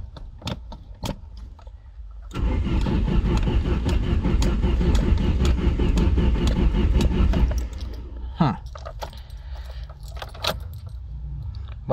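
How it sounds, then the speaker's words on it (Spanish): A 1989 Chrysler Shadow engine cranks and catches, then revs steadily under a pressed accelerator for several seconds before dropping back. Keys jangle close by at the start and end. "Vamos a apretar un poco el acelerador."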